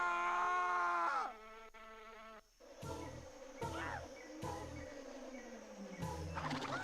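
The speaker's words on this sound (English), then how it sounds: "I need to clear a way for Cortex, who's under attack by bees" In Crash Twinsanity, bees swarm and buzz while attacking Cortex, a steady droning hum that runs under pulsing game music and a few sharp hits, starting with a rising whine.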